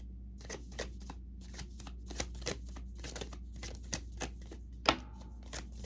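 A tarot deck being shuffled and cards drawn, giving a rapid run of soft, close card flicks and riffles, fairly quiet and with no talking.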